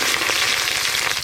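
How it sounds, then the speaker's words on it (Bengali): Taro pieces (gathi kochu) frying in hot oil for a fish dish, a steady loud crackling sizzle that holds unbroken throughout. "মাছ রান্নার জন্য এবার গাঁটি কচুগুলো খুব ভালো করে ভেজে নেব"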